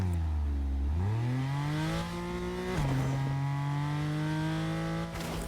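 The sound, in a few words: car driving in the video game Fortnite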